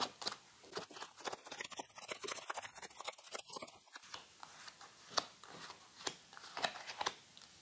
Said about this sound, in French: On mélange les 5 cartes.